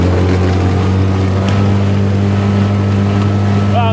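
An inflatable fast boat runs flat out at sea at about 14 knots, its engine droning loud and steady throughout with wind and water rush over the hull.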